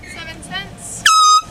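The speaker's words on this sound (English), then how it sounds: "Did you hear the air horn?" A loud air horn blasts once for about a third of a second at a fast-food drive-thru, cutting in sharply right after close, casual voices.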